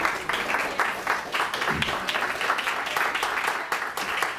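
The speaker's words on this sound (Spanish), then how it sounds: "Denle un aplauso al Señor" Congregation applauding in church, a sustained wave of rhythmic clapping from a gathered crowd, steady and moderately loud throughout.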